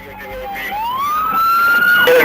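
A police siren wails upward in a rising sweep, loud and close, with other traffic noise underneath.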